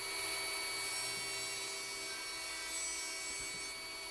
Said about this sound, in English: Couple of quick passes through the table saw.